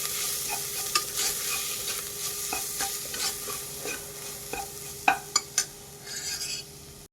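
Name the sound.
frying chicken masala with turmeric, chili and coriander powder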